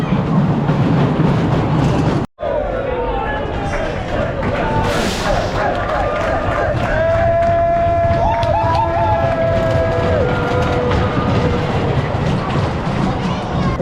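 Grand National, a wooden dueling roller coaster at Blackpool, roars along its track in a loud, continuous rumble and clatter, with whining tonal squeals rising mid-ride and a brief dropout near the start.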